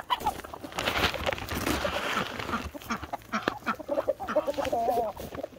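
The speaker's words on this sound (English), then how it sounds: "There's the duckies." A flock of ducks quacks busily and close by, with overlapping calls mixed with clucking from chickens in a lively farmyard chorus.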